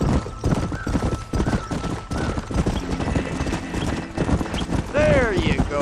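A horse gallops in a steady clip-clop rhythm in the Red Dead Redemption video game, with a whinny near the end, under shouted speech and game music.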